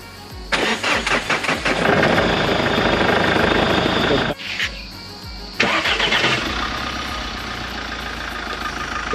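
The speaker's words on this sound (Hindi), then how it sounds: "कोई बार स्टार्टिंग इसकी भी आवाज़ सुन लेते हैं, इंजन वॉइस कैसा वगैरह है, और स्टार्ट करने की इसकी आवाज़।" A Mahindra Scorpio's engine cranks and catches, settles into a loud idle, cuts off briefly, then starts a second time and idles on, recorded close to the vehicle.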